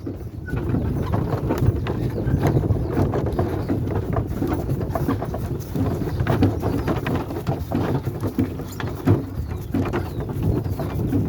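Steady clip-clop of a draft mare's hooves walking on a hard surface, mixed with wind rustle and faint bird calls in the background.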